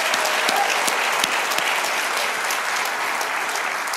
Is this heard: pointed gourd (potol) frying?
no